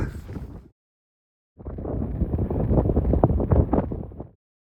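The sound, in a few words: wind blowing across the landscape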